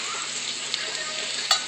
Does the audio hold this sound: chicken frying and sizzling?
yes